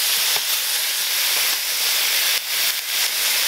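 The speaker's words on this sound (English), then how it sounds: "So the crab is cooking along nicely." Mud crab frying in hot spiced oil as the base of a Keralan coconut dish, giving a loud, steady hiss and sizzle that holds throughout with slight flickers, no talk.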